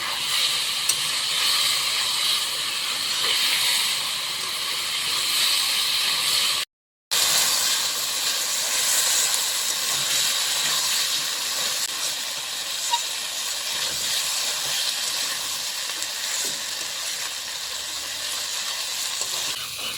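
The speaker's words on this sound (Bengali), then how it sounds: "পাঁচ মিনিট সময় নিয়ে আলুটাকে ভেজে নিলাম" Potatoes fry in a pan for a katla fish dish with Malabar spinach, making a loud, constant hissing sizzle that fills the whole stretch, cut by one very short gap of silence. No voices are heard.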